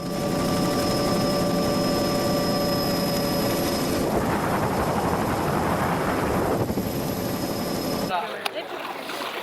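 Military and Coast Guard rescue helicopters fly over flooded areas of Chennai after heavy rain, a constant, heavy rotor drone that cuts off near the end, with a voice talking over it.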